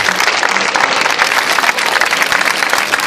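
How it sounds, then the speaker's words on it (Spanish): Dense, steady applause from a crowd at a gathering for university students in a plaza, many hands clapping continuously and loudly throughout with no pauses. "Y un aplauso para toda esa diversidad de estudiantes que hoy están aquí con nosotros."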